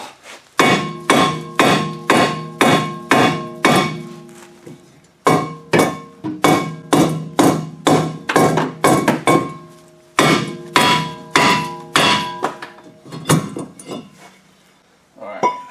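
Sharp metallic hammer strikes on a rear wheel bearing of a front-wheel-drive GM car in quick rhythmic bursts of about a dozen blows each, separated by short pauses, loud and close.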